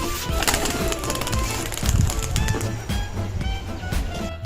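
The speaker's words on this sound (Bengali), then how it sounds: "এই পায়রাটা উড়াচ্ছি।" Pet pigeons are let go by hand to fly, with close, sharp wing claps and flutters scattered among soft cooing and bird calls over a busy background.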